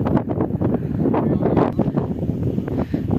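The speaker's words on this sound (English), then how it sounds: "Strong wind up here too." Strong wind buffets a microphone on an open hilltop, a steady loud low roar with gusty swells throughout, no voices over it.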